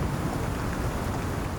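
A hailstorm in a snow biome in the survival video game Icarus makes a loud, dense, steady roar of pelting ice and wind that stays constant from start to finish.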